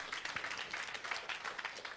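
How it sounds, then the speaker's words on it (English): Applause for the speaker's father at a celebration, a crowd clapping steadily at moderate distance, dense and even throughout with no voices. "A round of applause for my daddy"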